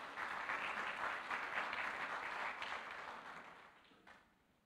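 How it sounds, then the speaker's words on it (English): A church congregation claps for the worship team, a full, steady wash of applause that holds strong for several seconds before thinning and fading out near the end. "Let's give each of them a big hand clap."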